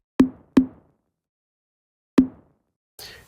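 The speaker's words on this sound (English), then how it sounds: "I'm just about to add in a tom here." Three dry, punchy mono tom hits, two quick ones then a pause before the third, each with a short low boom and fast decay, followed by a brief hiss.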